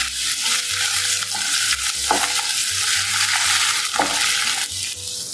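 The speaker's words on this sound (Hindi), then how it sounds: "अब इसमें मैं 1 टेबल स्पून अदरक लहसुन पेस्ट डालूंगी। इसे हम 1 मिनट ही पकाएंगे।" Onions fry in a pan with ginger garlic paste while a spoon stirs, giving a continuous loud sizzle broken by scraping stirs and occasional clinks, with no voices.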